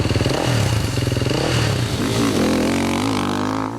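Rally motorcycles race on rocky dirt roads with curves and fine powdery dust, engines revving hard and rising and falling in pitch nearby, with clattering from the rough ground and no talk.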